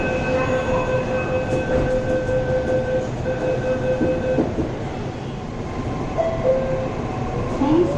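A Mumbai Metro train runs along Line 7 (Red Line) beside the Western Express Highway, producing a steady interior rumble with faint tonal whines and occasional squeals, while a voice speaks faintly in the background.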